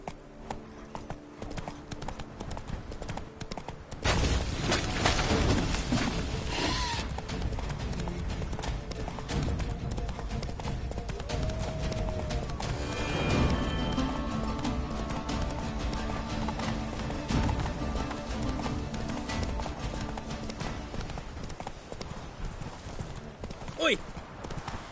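Roach, the horse in The Witcher 3, gallops with rapid rhythmic hoofbeats that carry on steadily through the stretch, with a brief whinny, in-game sounds and a voice speaking over them.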